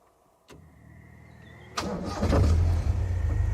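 A car engine cranks and catches in the bush with a leopard nearby: a quiet start, a rising crank, then a louder rumbling idle settling in close by.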